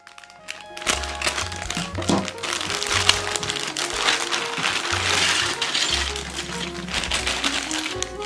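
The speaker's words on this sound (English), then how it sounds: "Let's open the plastic bag." Crinkling plastic bag being opened on a Revell 1969 Camaro model kit, steady rustling and crackling close up for several seconds with a few taps, under a low background hum.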